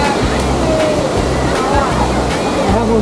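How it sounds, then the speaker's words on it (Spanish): A waterfall on a motorcycle route in Antioquia, Colombia, roars loudly and continuously, a dense rushing wash of falling water close by. "Dejamos esta hermosa cascada."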